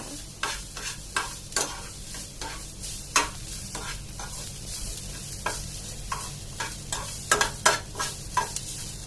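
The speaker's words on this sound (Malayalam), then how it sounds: "ശക്കല മുളക് പൊടി ഇട്ട് കഴിഞ്ഞിട്ട് നന്നായിട്ട് ഇളക്കുക" Spoon stirring chilli powder into frying dal curry in a pan, with repeated scraping strokes over a steady sizzle, close and clear with no talking.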